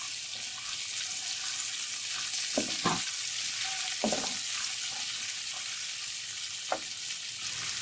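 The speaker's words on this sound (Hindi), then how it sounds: "ऑयल गर्म हो जाए तो इसमें आप प्याज ऐड कर लें" Chopped onions fry in about half a cup of hot oil, adding a continuous close sizzle with a few stirring scrapes and clinks for fried daal mash.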